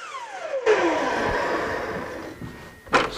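A handsaw cuts through wood to square the end of tenon stock in a workshop, a brief loud rasping burst after a rising tone, followed by a sharp knock near the end.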